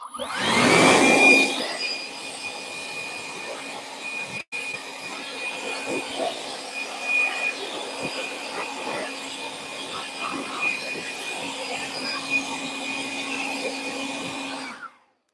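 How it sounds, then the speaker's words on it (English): An air blower hisses loudly and steadily while clearing debris from a milling machine, starting with a strong burst and then holding a sustained whooshing rush with a thin whine, until it cuts off at the end. "Where's that blower? Let me blow that out."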